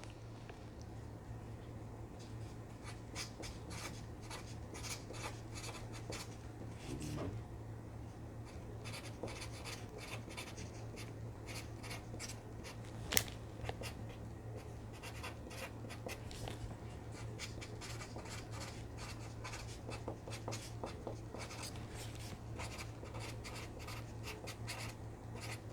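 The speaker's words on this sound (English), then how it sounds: "I'm just gonna write a quick little note for them" A pen scratches across paper while someone handwrites a short note, in quiet, faint, close strokes with small pauses between words, steady over a low hum.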